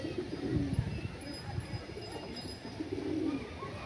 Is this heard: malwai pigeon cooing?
yes